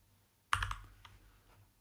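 Short burst of computer keyboard typing, a quick cluster of clicky keystrokes followed by a couple of softer taps, quiet and close.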